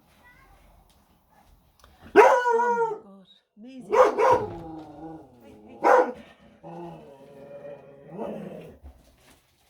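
A young dog named Maisie barks in several loud, close bursts with whimpering howl-like tones between them, while a person speaks over it.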